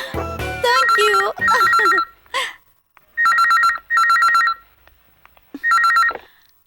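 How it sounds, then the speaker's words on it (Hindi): A telephone in a Hindi-dubbed feature film rings in paired electronic trill bursts, loud and close, with short pauses between pairs, after a brief moment of other sound at the start. "Bharat, phone for you."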